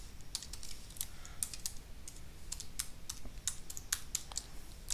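Quick irregular clicks of a computer keyboard as a password is typed on a Mac, close and fairly soft, in short bursts with brief pauses, over quiet room noise and no speech.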